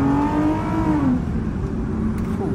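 Lexus IS350 with loud exhaust revving at night from inside the car, engine tone rising then dropping off as the revs fall, steady road rumble underneath.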